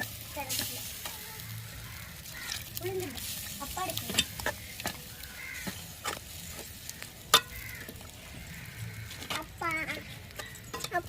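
Masala sizzles in a pan with sautéed onion and tomato, the frying hiss broken by repeated scraping strokes of a spoon stirring, close and moderately loud.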